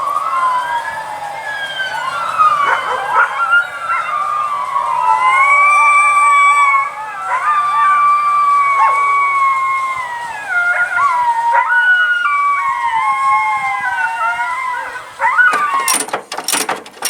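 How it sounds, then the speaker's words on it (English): Several dogs howl together in long, wavering cries, rising and falling over a passing fire truck or ambulance siren, loud and close, with a short burst of noise at the end. "My dogs do this thing every time a fire truck or an ambulance goes by."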